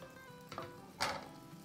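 Curry leaves, dried chilies and white cumin hit hot oil in a pan, giving a quiet, steady sizzle with two brief louder crackles as they drop in.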